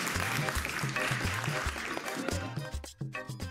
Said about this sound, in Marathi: फ्री, जोरदार टाळ्या.